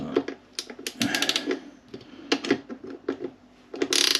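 Bolts on the torque arm of an Engwe M20 e-bike being tightened with a ratcheting tool, giving a close run of quick clicks and metallic clatter in uneven bursts.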